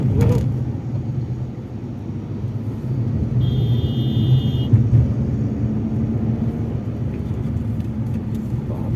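Car driving in heavy traffic on the Kharghar highway near Mumbai, a steady close low engine and road rumble throughout with a brief high electronic tone in the middle.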